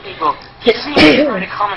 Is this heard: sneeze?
yes